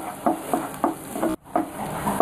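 Onions stirred in a frying pan for instant chapati noodles, a spoon scraping in a steady rhythm of soft strokes over a quiet sizzle, close and fairly faint.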